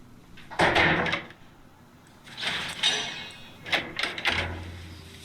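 A door in a horror video game slides and thumps, with three separate bursts of scraping and knocking spread over a few seconds, fairly loud and close, with no talk.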